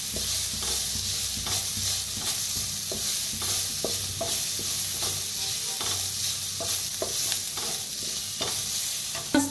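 A spoon scrapes and clacks in a pan as turmeric is mixed into a frying vada pav filling mixture, over a steady loud sizzle that runs throughout, with no voices.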